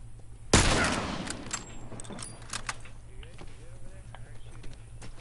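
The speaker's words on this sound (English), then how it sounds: "that's me shooting" Single sharp gunshot from The Last of Us multiplayer, loud and close, followed by a decaying echo, faint clicks and rustles, and a steady low hum underneath.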